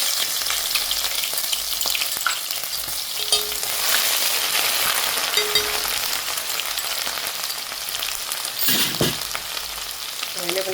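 Garlic and ginger fry in hot oil for a dry fish curry, giving a steady close sizzle with occasional stirring scrapes and no voices.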